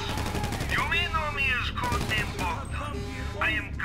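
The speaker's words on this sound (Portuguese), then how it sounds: "Já estão atirando." Rapid bursts of gunfire crackle in GTA V Online, with whooshing projectile sounds and explosions layered over a steady low rumble.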